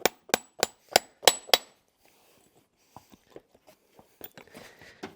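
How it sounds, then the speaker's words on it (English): A farrier's hammer drives nails through a horseshoe into a hoof, six sharp metallic taps in quick succession up close, followed by softer scattered knocks and scraping. "So I've got plenty of pitch on this shoe, so I can nail it on nice."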